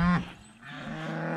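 Cows on a walk in the countryside give a couple of low, drawn-out moos at moderate distance, with faint background noise and no talk.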